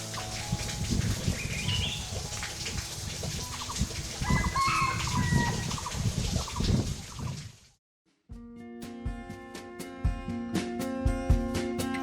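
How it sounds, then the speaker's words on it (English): Jungle fowl cluck and crow in the Garo Hills jungle, with layered calls over dense rustling ambience. After a brief drop to silence, a different scene follows with steady tonal sounds. "you will be able to hear sounds made by the jungle fowl"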